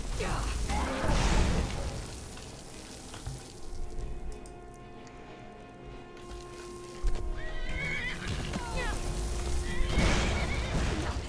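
Horses in the game Skyrim whinny loudly near the start and again near the end, with clip-clopping hooves and scattered combat noise between, all fairly close.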